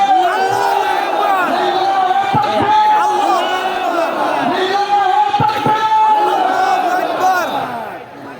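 A large rally crowd roars a takbir chant in unison, loud and sustained throughout, with massed voices swelling in repeated waves.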